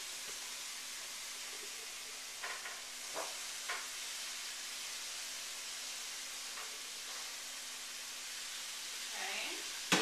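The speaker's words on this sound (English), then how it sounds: "My mushrooms are cooking." Mushrooms sizzle in a pan for a butternut squash pasta sauce, a faint steady hiss of frying with a few soft clinks and stirring sounds, and a voice briefly speaking.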